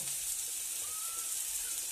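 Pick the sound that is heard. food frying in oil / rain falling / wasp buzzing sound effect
food frying in oil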